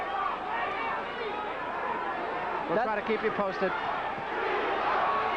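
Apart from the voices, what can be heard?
boxing match crowd cheering, Pinklon Thomas vs. Mike Weaver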